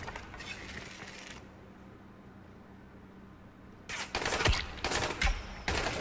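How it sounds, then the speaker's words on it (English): Enemy gunfire in the zombie survival game Dying Light, bursts of rapid shots breaking in after a low ambient stretch, loud and close with a brief gap between volleys. "And of course he's shooting at me."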